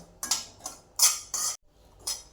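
Semolina and grated coconut filling with cashew pieces being stirred and roasted in a pan for fried modak, a metal spoon scraping in four or five brisk, clear strokes with short pauses, close and alone.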